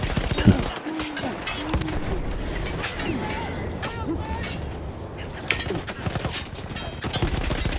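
Rapid gunfire from the World War I shooter Battlefield 1, bursts of shots crackling over a busy battle din with hoofbeat-like clatter, fairly loud and continuous, with someone talking over the action.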